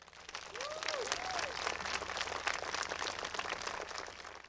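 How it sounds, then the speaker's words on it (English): Audience applause at an outdoor high school groundbreaking ceremony, steady, fairly faint clapping from a gathered crowd that builds slightly and continues throughout, with a brief sweeping tonal sound near the start. "one last round of applause"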